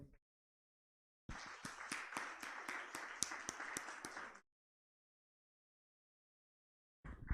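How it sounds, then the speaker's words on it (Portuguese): Church congregation applauding: a burst of dense, lively hand clapping lasting about three seconds between silences, moderately near, with a few louder individual claps standing out. "Vamos aplaudir ao Senhor."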